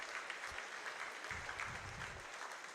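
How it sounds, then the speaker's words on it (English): Continuous crowd applause fills a county 4-H fair goat show arena after the Junior Showmen heat, steady and moderately distant throughout. "let's get a big round of applause for our first heat of Junior Showmen"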